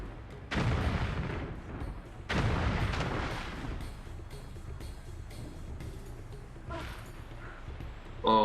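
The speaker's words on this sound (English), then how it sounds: "More like the grenade cannon it's the super ammo. You fire that in the water. Each grenade's like 3 or 4 explosions." Grenade cannon blasts fired into water in Tomb Raider 3, each grenade setting off several explosions: two loud booming bursts near the start, followed by a lower rumbling tail and a smaller pop near the end.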